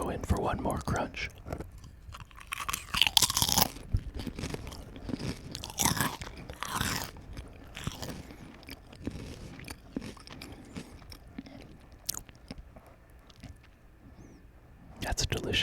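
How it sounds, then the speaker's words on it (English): Potato chip, a foreign brand, being bitten and chewed close to the microphone, with repeated crisp crunches and chewing noises over about fifteen seconds and some quiet breathy vocal sounds. "Let me go in for one more crunch."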